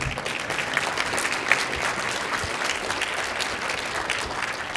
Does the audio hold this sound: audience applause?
yes